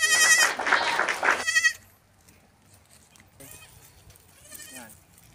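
Goats bleating close by on a small home farm, a loud drawn-out bleat followed by a quieter second bleat after a pause.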